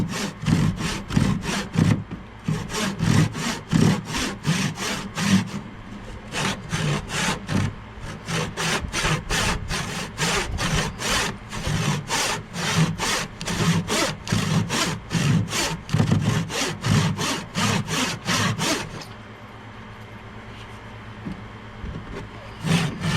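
A handsaw cuts wood for a gourd banjo neck in steady back-and-forth strokes, close and rhythmic, with a few brief pauses and a quieter stretch near the end.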